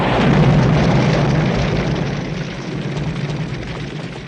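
A bomb blast in an Orson Welles film scene hits as a loud, dense low roar from the very start, then slowly rumbles and decays over several seconds with no one talking.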